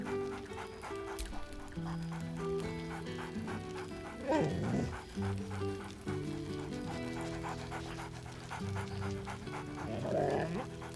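A dog in Baldur's Gate 3 pants steadily with a couple of short whimpering yelps, over soft layered game music.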